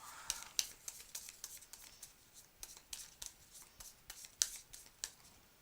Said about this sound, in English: if you will shuffle my deck for me